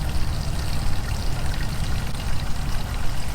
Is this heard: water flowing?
yes